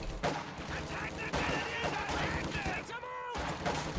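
An MG-42 machine gun lays down suppressing fire in a World War II strategy video game, rapid bursts of gunfire rattling under a commentator's voice amid other battle sounds.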